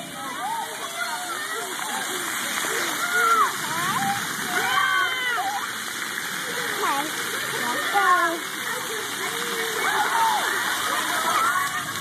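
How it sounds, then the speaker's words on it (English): Water spraying and splashing at an outdoor splash pad, a steady, continuous hiss of spray with splashes rising and falling, while voices talk over it. "That water is so cold, no?"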